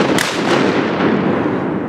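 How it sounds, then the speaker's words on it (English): Shotgun blasts during a duck hunt on an Arkansas oxbow come as loud, close booms, with a sharp report near the start and a dense rumbling roll that fills the brief stretch. "Shoot them, Blake!"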